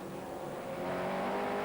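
An Audi race car at the 2001 American Le Mans Series race, a sustained high engine whine building slightly as it passes, loud and unbroken.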